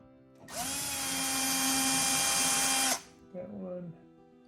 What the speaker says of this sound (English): I think we have to remove these two Phillips head screws.